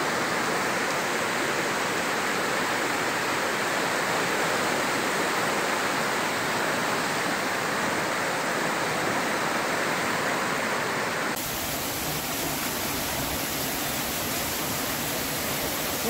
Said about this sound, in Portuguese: A água já começou a correr por cima.